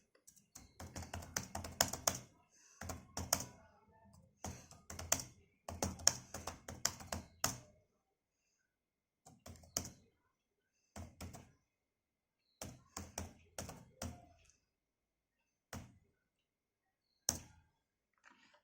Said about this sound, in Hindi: जैसे मैं आपके सामने फास्ट टाइपिंग करती हूँ